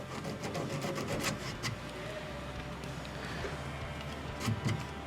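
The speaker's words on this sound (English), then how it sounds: "maybe let's take a little sandpaper on this one because it's got a little bit of paint" Sandpaper rubbing over a painted plastic skull to expose the raw plastic, a steady close-up rasping scrape that carries on without a break throughout, with no talking.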